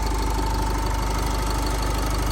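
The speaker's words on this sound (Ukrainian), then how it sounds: "Мотор працює чітко, рівненько" A Renault Koleos 2.0 dCi diesel engine idles steadily, a smooth, even running drone with a low rhythmic knock and no voices.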